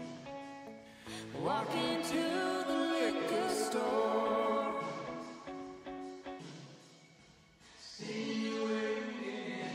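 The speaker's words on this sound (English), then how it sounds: "you've got this regular reverb" Music mix with a regular reverb effect: sustained harmonic instrumental tones swelling and fading with a washy, lingering tail, loud and full throughout with no talking.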